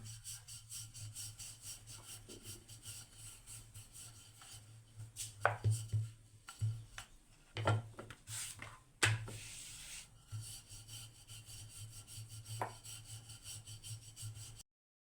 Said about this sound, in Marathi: अशा पद्धतीने मी हा पराठा लाटून घेतलेला आहे